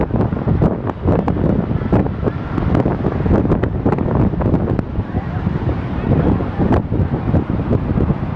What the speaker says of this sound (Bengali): অজস্র ঢেউ